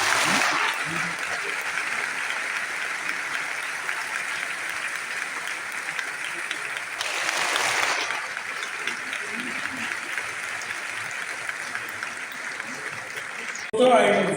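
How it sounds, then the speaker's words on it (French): Sustained audience applause fills a French award ceremony, a dense, steady wash of many hands clapping at close range, swelling briefly midway before cutting off near the end. "Merci d'accompagner par vos applaudissements."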